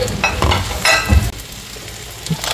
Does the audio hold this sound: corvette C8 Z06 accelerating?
no